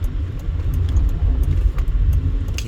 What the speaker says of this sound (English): I got some traffic, cross traffic here.